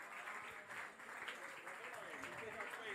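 A live audience at a music contest final gives applause for the jury: a steady wash of many hands clapping, quite faint and distant, with voices mixed in.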